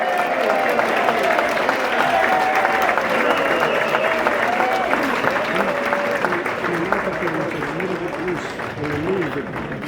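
At a St. Patrick's Day brunch, the crowd cheers and applauds the Monsignor with steady, loud clapping throughout, mixed with cheering voices and some chatter.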